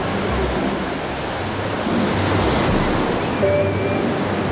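Steady roar of ocean surf breaking offshore at a surfing contest, a continuous dense wash of waves with wind, loud and unbroken throughout.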